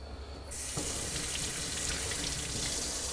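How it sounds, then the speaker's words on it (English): Tap water rinses a small cleaned Atlantic silverside fish, starting abruptly after a short pause and then streaming steadily and close, with light splashing. "Give it a quick rinse."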